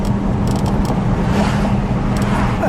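A 1969 Buick Electra 225 four-door with a 430 CI engine rumbles low and steady while cruising, a continuous deep drone mixed with road noise inside the car.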